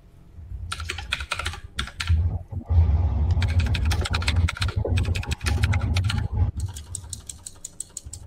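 Fast typing rattles on a mechanical keyboard, close and loud, in dense bursts of clicky keystrokes broken by brief pauses.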